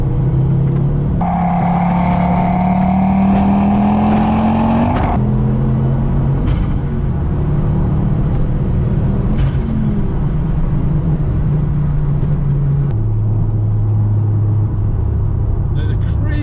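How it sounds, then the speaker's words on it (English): A mk2 Ford Focus RS, a stolen and recovered car being rebuilt, pulls hard in fourth gear: a loud, rising engine drone climbs steadily, drops at the shift, then carries on as a strong, close rumble. "We'll do a 4th gear pull."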